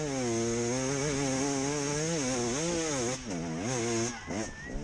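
A two-stroke hard enduro motorcycle engine revs loudly and close, its pitch rising and falling in repeated surges, briefly dipping near the end.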